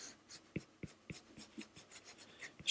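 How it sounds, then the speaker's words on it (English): Pencil lightly sketching a cartoon head on paper: a series of soft, short scratchy strokes in an uneven rhythm, close and quiet, with no talking. "I'm going to go ahead and just kind of lightly sketch a head"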